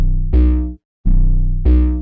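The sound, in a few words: heavily distorted 808 bass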